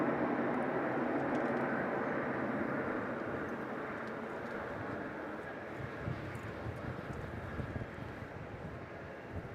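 A Singapore Airlines airliner at Melbourne Airport gives off a steady, loud broadband jet roar that eases slightly over time, with some wind buffeting on the microphone.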